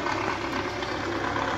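A Belarus tractor engine idles steadily and close by, a continuous low rumble with a faint knocking texture while the tractor stands loaded with stones.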